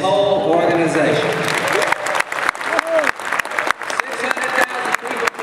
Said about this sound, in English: How about a round of applause for Chad and his whole organization?